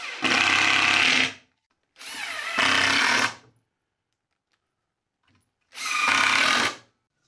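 A power drill driving 1¼-inch screws to fix casters onto a wooden cart for a homemade band saw mill, three loud whirring bursts of about a second each, separated by silent gaps.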